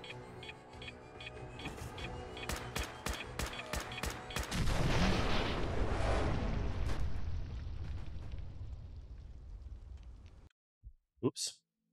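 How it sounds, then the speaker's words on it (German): A large explosion in the video game Fallout 4 booms after a series of sharp gunshot-like cracks, then a long rumbling roar fades before cutting off, with someone talking over the game. "das explodiert ja trotzdem"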